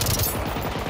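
Rapid gunfire in the Generation Zero video game, a loud burst of closely spaced shots rattling in quick succession, close and dense, without speech.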